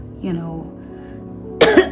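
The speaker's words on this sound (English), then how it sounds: "Don't mind my cough, I just recovered from a very bad cough." A single sharp cough from someone just recovering from a bad cough, loud and close, bursting out at the end after a stretch of soft voiced sound.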